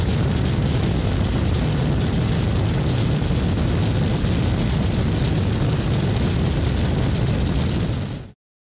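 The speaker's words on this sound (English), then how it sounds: "let's listen again to the fire soundscape from the demo reel." A synthesized fire soundscape built in Max, a dense, continuous crackling roar of broadband noise held at a loud, even level until it cuts off abruptly near the end.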